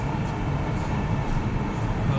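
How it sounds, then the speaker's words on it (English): A steady low rumble and hiss of a Chennai Metro train arriving at a station, continuous and moderately loud, with no voices over it. "So there is a train coming from the previous stop."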